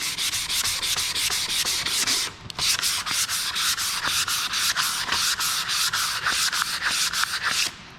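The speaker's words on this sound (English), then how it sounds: "Sanding with the grain." Sandpaper of 220 grit rubbing along the grain of a wooden step stool in quick, steady back-and-forth strokes, loud and close, with one brief pause and no talking.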